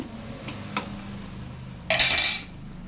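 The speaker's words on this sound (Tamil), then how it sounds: "கொஞ்சம் உப்பு போட்டு இதை கிண்டி விடணும்" A drumstick and raw mango curry with tomato and salt is stirred in a pot, giving a couple of faint clinks early on and then a brief louder metallic scrape of a spoon against the pot, with no talking.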